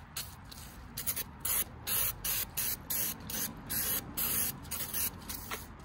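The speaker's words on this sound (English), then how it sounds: "I'm gonna spray this down with some brake clean." Brake cleaner is sprayed in a series of short hissing aerosol bursts onto new brake parts on an equipment trailer, each burst close and sharp, repeated in an uneven rhythm with brief gaps between.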